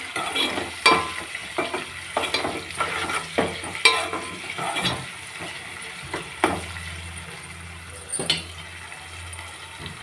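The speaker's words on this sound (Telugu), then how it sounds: "ఇప్పుడైతే ఎండుమిర్చి తొందరగా గోలుతాయి కదా." Dried red chillies fry in oil in a pan, a close crackling sizzle broken by repeated stirring scrapes and clanks, with brief louder bursts.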